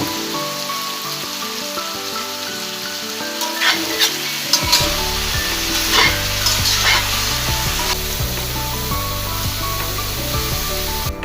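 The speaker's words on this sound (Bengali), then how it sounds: "ঢেকে খুব ভালো মতো কষিয়ে নেব" A dried tuna curry with eggplant frying under a lid, giving a dense, loud, continuous sizzle with spattering crackles, over steady background music.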